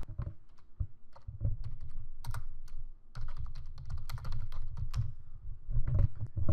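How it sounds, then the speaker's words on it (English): Steady typing on a computer keyboard during text entry in stamp-collection software, a run of close, crisp key clicks with brief pauses, heard alone without speech. "All I need to do is just enter the format manually. Just type it in."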